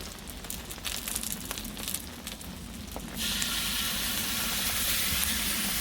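Four bacon rashers frying on a Cadac Safari Chef 30 gas grill at a French campsite: a busy crackle at first, then a loud, steady, close sizzle from about halfway through.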